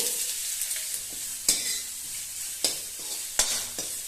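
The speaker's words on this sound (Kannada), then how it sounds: "ಇದನ್ನು ಕೂಡ ಚೆನ್ನಾಗಿ ಫ್ರೈ ಆಗಲಿ. ಒಂದು ಮೀಡಿಯಂ ಸೈಜಿನ ಈರುಳ್ಳಿಯನ್ನ ಸಣ್ಣದಾಗಿ ಹೆಚ್ಚಿಟ್ಕೊಂಡಿದ್ದೀನಿ." A finely chopped medium onion fries in a pan for veg lemon coriander soup, a loud close sizzle punctuated by several sharp scraping stirs of a spoon.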